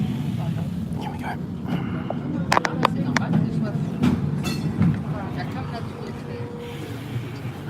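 A city circle tram creeps slowly through traffic toward a set of lights, with a low steady rumble and occasional clicks and rattles. Someone talks over the noise throughout.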